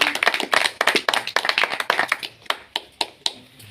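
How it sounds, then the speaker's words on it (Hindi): An audience claps to welcome a guest at an outdoor celebration, a crowd of hands pattering quickly and loudly, then thinning out into scattered single claps before fading. "आप सभी की तालियों के साथ वेलकम करता हूं"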